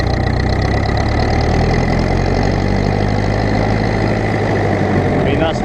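A Ferguson TEF20 tractor engine running close and loud, a steady throbbing rumble held at high revs throughout, with someone speaking over it.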